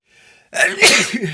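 A single loud, close human sneeze, preceded by a brief soft intake of breath, heard alone.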